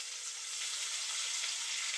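Tomatoes drop into onions frying in oil in a home kitchen pan, giving a steady, even sizzle close by with no talking.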